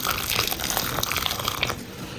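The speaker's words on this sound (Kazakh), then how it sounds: "15 минутқа үстіне қайнап тұрған ыстық суды құйып қоямыз" Boiling water is poured close-up over cut tomatoes while making a bolognese pizza, giving a steady splashing gush that runs for about two seconds before easing off slightly.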